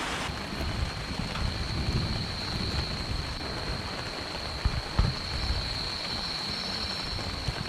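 Steady rain falls on a stormy evening at a campsite in Saraburi, Thailand, a dense even hiss with a few soft thumps, close and continuous with no talking.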